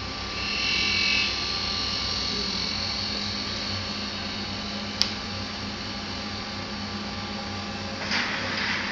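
Benchtop centrifuge spinning down qPCR samples, a steady whirring hum with a faint motor whine that holds evenly, plus a single sharp click midway, alone in a quiet lab.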